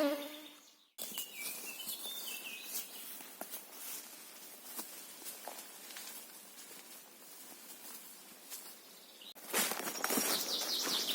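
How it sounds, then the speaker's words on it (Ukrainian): Faint birdsong drifts through a quiet oak forest while someone walks, gathering mushrooms, with soft scattered chirps, light footsteps and rustling close by. "пташки виспівують тут"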